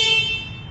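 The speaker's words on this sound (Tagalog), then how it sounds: "Malakas na rin po itong kanyang stock horn." Stock horn of a Bristol Maxxie 160 scooter sounding one steady, bright, loud blast held for under a second, close by and alone, fading slightly at the end.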